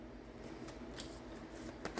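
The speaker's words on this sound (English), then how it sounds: "I always shuffle before I even start" A tarot deck is shuffled by hand in quiet, soft papery riffles and light card flicks, with a few sharper snaps near the end.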